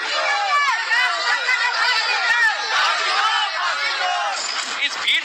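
An angry crowd at a protest in Darbhanga, Bihar, demanding punishment for a rape accused, many voices shouting and chanting at once in a loud, dense, continuous roar close by.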